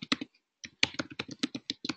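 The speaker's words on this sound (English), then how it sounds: "let's type firebase.google.com" Rapid keystrokes on a computer keyboard, a quick burst of clicks, a short pause, then a steady run of close, crisp taps with no speech.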